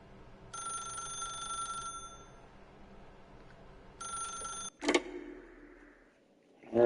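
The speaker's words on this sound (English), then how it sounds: "then pick up the phone." Old-style telephone bell ringing in The Stanley Parable, two separate bursts of bright rapid ringing with a pause between, followed by a click and a brief rustle as the receiver is lifted.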